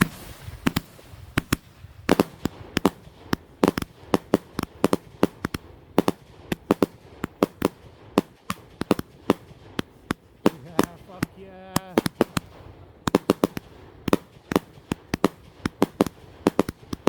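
Bonfire Night fireworks on 5 November 2023 burst in a rapid, irregular barrage of sharp bangs and crackles, loud and close, with a brief whistling rocket partway through.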